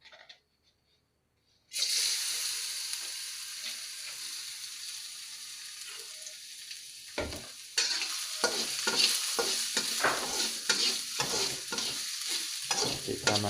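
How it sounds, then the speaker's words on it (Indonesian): Garlic drops into hot oil and bursts into a loud, continuous sizzle, with a spatula stirring and scraping the pan in short, repeated strokes. "Kemudian kita masukkan bawang putih tadi yang sudah kita siapkan."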